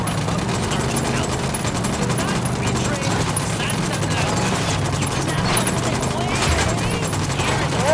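Dense, continuous gunfire rattles in the Ghost Recon Wildlands video game, with overlapping bursts and shots forming a steady loud barrage and some background talk mixed in.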